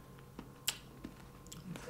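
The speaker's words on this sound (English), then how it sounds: "how do you chew a Jolly Rancher?" Someone bites and chews a hard Jolly Rancher candy up close, giving a few sharp crunchy clicks spaced irregularly over quiet background.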